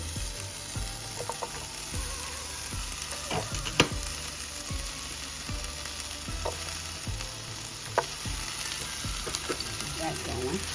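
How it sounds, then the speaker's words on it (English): Sliced onions fry in a pan, making a constant close sizzle broken by sharp scrapes and taps as they are moved around. "while my onions are cooking"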